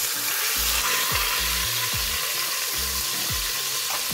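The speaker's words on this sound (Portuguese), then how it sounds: "Vamos colocar agora a carne pra ser selada" A pork loin sears in very hot olive oil, a loud, dense, continuous sizzle that stays close and constant, while something rhythmic thumps low underneath; no one speaks.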